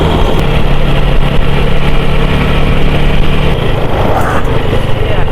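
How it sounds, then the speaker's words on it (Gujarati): Loud, constant rumble of a tractor engine idling or running nearby, with a steady low drone throughout. "પેલું ટ્રેક્ટર જાય આગળ"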